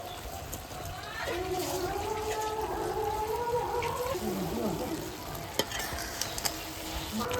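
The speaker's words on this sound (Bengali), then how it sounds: "দেখুন আমগুলো কি সুন্দর টকবক টকবক করে ফুটতেছে" Mango pickle with whole mangoes and fried spices bubbles thickly in a pan while a spoon stirs it, giving a steady close sizzle and scraping with a few clinks, under a speaking voice.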